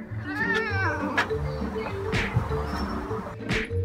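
A cat yowls and caterwauls while fighting a dog, with drawn-out, wavering cries and sharp scuffling bursts, loud and close throughout.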